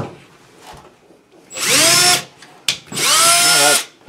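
A power drill drives a screw into a furnace panel during installation, two loud bursts of whining motor with rising pitch, each lasting about a second and close by, separated by a short pause.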